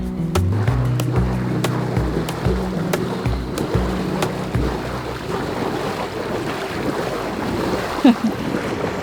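A boat runs through whitewater with heavy rushing water and wind buffeting the microphone. Thumps and knocks come at irregular intervals and are loudest at the start.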